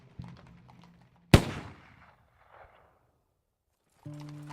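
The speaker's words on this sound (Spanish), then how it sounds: "El estruendo de un disparo sobresalta al caballo" A single loud, sharp gunshot cracks out and rings off in a fading echo, with faint low tones before and after.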